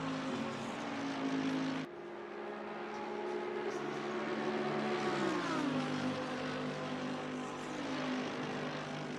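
Lamborghini GT3 race car engine in the Real Racing video game: a loud, sustained engine whine that pitches down midway as the car shifts or brakes, heard alone and close up.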